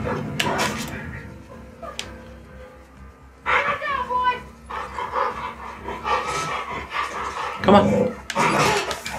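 A dog in The Last of Us 2 video game barks, pants and growls in bursts amid combat noise. Someone talks loudly over much of it.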